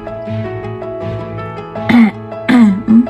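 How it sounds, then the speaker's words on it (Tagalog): A person coughs twice in quick succession, close and loud, then gives a shorter third cough, over a faint steady hum. "Masakit nga ni ubo."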